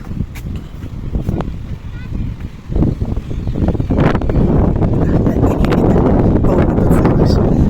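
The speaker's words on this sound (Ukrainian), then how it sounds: "подивимося, як море бушує і розмовляє з нами" Rough sea and gusting wind roar close to the microphone, with waves surging and wind buffeting growing heavier over the clip.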